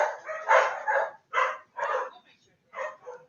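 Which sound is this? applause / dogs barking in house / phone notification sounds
dogs barking in house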